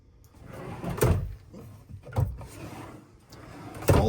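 Drawers in a cruise ship cabin aboard the MSC World America slide open and shut, giving a few soft wooden thumps and scrapes spaced a second or so apart, at close range in a quiet room.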